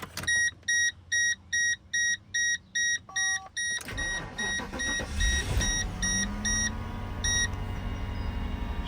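A Mercedes W210 car with a freshly replaced radiator and thermostat starts after a run of repeated electronic chimes, its engine catching and settling into a steady, close idle.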